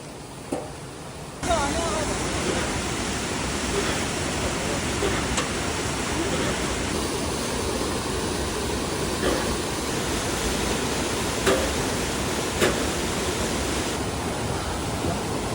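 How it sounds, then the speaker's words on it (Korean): A steady roar of a waterfall in Seoraksan's Cheonbuldong Valley, South Korea, fills the scene, constant and loud, with a few faint voices and small knocks beneath the rushing water. "이 폭포가 아까 말한 데가 여기구나"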